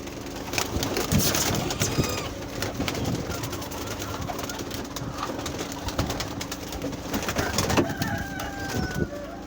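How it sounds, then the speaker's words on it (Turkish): Pigeons coo and flutter close by, soft throaty calls mixed with wing flaps and shuffling, a continuous busy murmur of birds. "Bizim kendi güvercinlerimiz çıkar şimdi."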